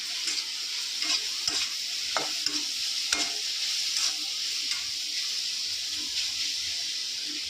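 Vegetables fry and sizzle steadily in a pan with spices, with a bright hiss running throughout and repeated clacks and scrapes of stirring.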